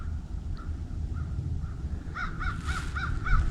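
Crows cawing at Frontenac State Park on Minnesota river bluffs, a series of repeated harsh caws rising toward the end over a steady low outdoor rumble, with an earlier fainter call in the background.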